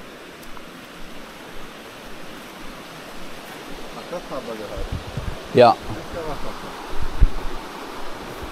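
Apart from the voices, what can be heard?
river rushing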